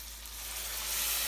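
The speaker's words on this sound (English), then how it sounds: "Ah, you hear that sizzle?" Chicken stock poured into a hot pan sets off a bright, steady sizzle that swells slightly over a brief moment, close and alone.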